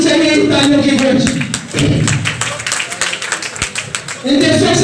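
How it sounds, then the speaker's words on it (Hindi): An audience at a live seminar applauds with a dense, steady patter of many hands clapping. Loud voices carry over it at the start and again at the end. "जोरदार तालियां रुकनी नहीं चाहिए"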